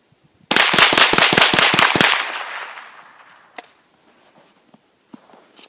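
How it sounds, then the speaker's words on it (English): A Henry AR7 rifle fires a rapid string of about ten loud, sharp shots outdoors in arctic cold, each crack close and evenly spaced, then a fading echo and a few faint knocks afterward. "So I'm going to charge the rifle, and we'll see how it runs."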